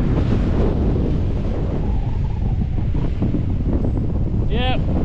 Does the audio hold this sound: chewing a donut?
no